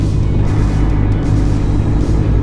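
Steady low diesel drone from a Mercedes Actros HGV truck engine, heard from inside the cab as a continuous close rumble with no talk over it.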